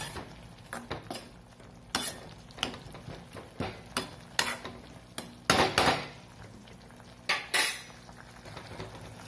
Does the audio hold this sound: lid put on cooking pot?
yes